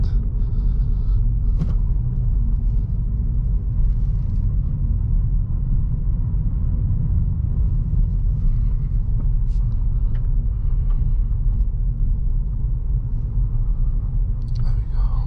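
A 2023 Acura Integra engine droning low and steady through a downshift, heard from inside the cabin as a continuous rumble, with someone talking at times.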